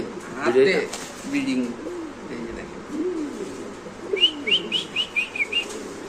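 A pair of uncommon-coloured racer pigeons coos in repeated low, rolling phrases close by, followed by a quick run of higher chirps near the end, with faint background voices from the pigeon market.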